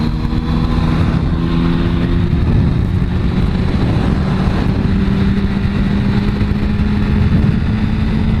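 A motorcycle shifts up to third gear and accelerates onto a freeway, a loud, close, continuous engine drone with a rising tone under heavy wind rush, no voices.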